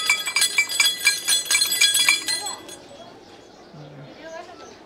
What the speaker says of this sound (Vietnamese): Còn chuông này thì lắc.